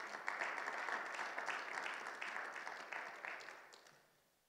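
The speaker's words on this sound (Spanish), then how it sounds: "¿Cuánto le dan un fuerte aplauso, Señor, por favor?" A church congregation bursts into a brief, close round of clapping that holds steady for a few seconds, then fades away toward the end.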